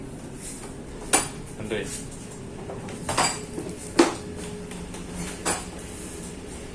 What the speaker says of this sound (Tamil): உள்ள பிளேட்லாம் அடிச்சுக்குது, அதான் சவுண்டு.